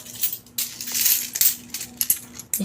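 Loose coins from a piggy bank savings count spill and clink close by in several short bursts. No voices are heard over the metallic rattling.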